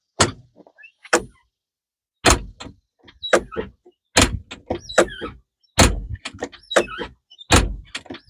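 A series of sharp thuds and latching clunks as a compact equipment cab door on a new machine is shut repeatedly, loud and close, with rattles after each slam.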